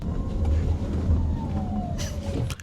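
A Tata Curvv EV is heard from inside while it drives, giving a soft, steady low road hum with a faint rising and falling electric motor whine. Brief talk occurs near the end.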